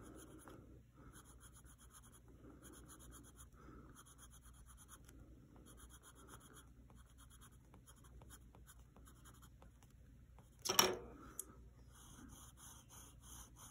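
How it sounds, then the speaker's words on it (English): Colored pencil strokes on paper, quiet rhythmic scratching in short repeated bursts with brief pauses, close and soft, one louder scrape near the end. "I'm going to go lightly over it this direction and then continue with my little edged pencil strokes"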